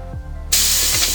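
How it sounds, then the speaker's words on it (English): Master Airbrush Model G22 with its compressor, the trigger pressed lightly so only air comes out: a quiet mechanical hum, then a sudden loud, steady hiss of air that carries on to the end. "To spray the Master Airbrush Model G22, you want to pick up the G22 Master Airbrush and press the trigger lightly."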